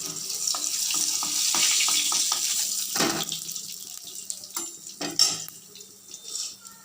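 Pieces of katla fish fry in a pan with a broad, hissing sizzle that swells, then thins out. Scattered clicks and clatters from the pan break through near the end.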